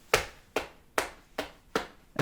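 A foot stomps on the floor as a drum during a guitar jam, five evenly spaced sharp thuds with clap-like snaps, close and alone.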